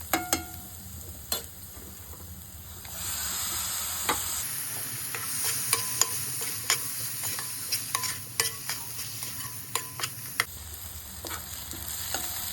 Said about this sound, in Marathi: मसाला हा चांगला आपला भाजलेला आहे तर ह्यात आता आपण टॉमॅटो घालूया